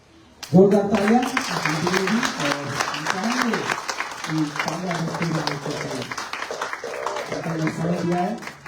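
Hearty applause at a live Christmas church service, a sustained wash of clapping from a crowd with a voice speaking over it throughout.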